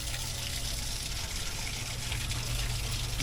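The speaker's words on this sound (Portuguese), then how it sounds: "tem duas bicas aqui" Water pours steadily from two spouts of the Fonte São Carlos, a public spring fountain said to give radioactive and thorioactive water, in a close, continuous splashing gush with no pauses.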